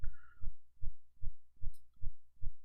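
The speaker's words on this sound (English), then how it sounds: "Why do I hear a heartbeat sound during your live streams?" A steady thumping heartbeat running under a crypto market live stream, about seven evenly spaced low beats close and fairly loud, with a brief faint tone near the start and a short high chirp midway.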